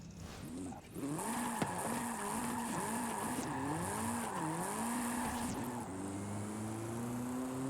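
Tires squeal in long wavering howls as a car drifts on street drift tires in the Forza racing game, the pitch sliding up and down over a steady engine drone, loud and continuous with no talk.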